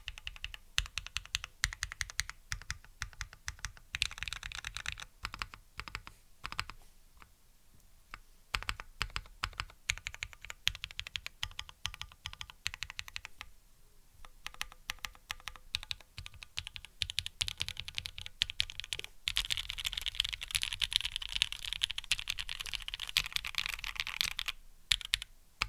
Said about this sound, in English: Slow typing, my bad.